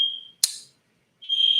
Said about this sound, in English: Stupid fire alarm keeps going off.